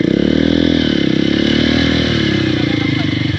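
Honda CRF motorcycle engine running steadily along a dirt trail on an island, a loud, continuous close-up drone with a throbbing rhythm that eases slightly toward the end.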